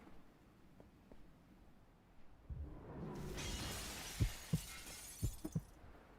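Glass shatters in Arcane Odyssey, a video game: a swelling crash of breaking glass followed by several sharp clinking impacts as shards land, fairly loud with no speech.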